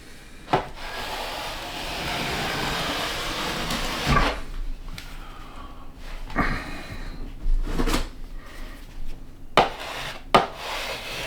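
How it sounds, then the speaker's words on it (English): Scraping drywall joint compound out from behind tape on a sheetrock wall in a home addition: a continuous close rasping scrape broken by sharper strokes and knocks, with no talk. "I want to try to scrape off as much of this as I possibly can"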